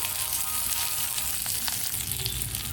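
Slit green chillies, hot and spicy, sizzle and fry steadily in oil in a pan during masala preparation for chicken 65, a continuous close crackling hiss with no talk.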